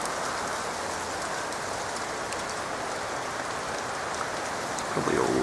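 Wet sleet falls at around 8 PM in Blackheath, making a dense, even patter of icy drops on surfaces. It sounds close and continuous with no pauses.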